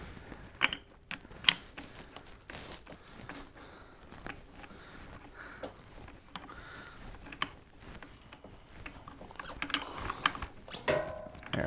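A hand ratchet clicks in irregular bursts while tightening a nut on a Sportster motorcycle during regulator/rectifier and stator replacement, close and crisp with scattered metallic taps and creaks, no voices.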